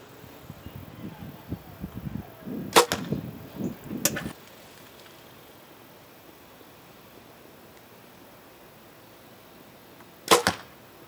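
Arrows from a compound bow thud into a target outdoors: a cluster of rustling and impacts with two sharp hits early on, then quiet, then one more loud impact near the end.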